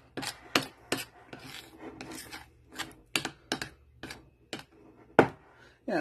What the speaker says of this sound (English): I'm going to go ahead and scrape off my edges here.